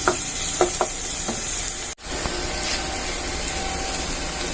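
Onion, green chili and ginger stirred and fried in a pan for a pappadam curry: a steady sizzle with a few scraping stirs early on, a brief cut in the middle, then continued frying hiss.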